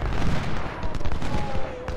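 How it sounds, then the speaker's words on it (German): Cannon and gunfire from the Civil War strategy game Ultimate General: Civil War crackle in a dense, continuous volley, loud and close, with booming shots overlapping throughout. "Kanonen."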